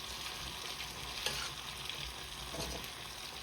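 Quiet, continuous sizzle of green chillies being stir-fried for chicken fried rice, with a couple of soft scraping stirs in the pan and no voices.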